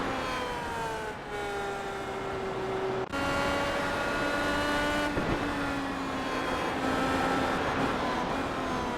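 An IndyCar engine screams through a qualifying lap in the iRacing sim, with a loud, sustained high whine rising and dipping through gear changes, steady and close with no voices.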